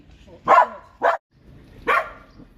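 A dog barks three times, close by, with short gaps between the loud sharp barks and low background noise.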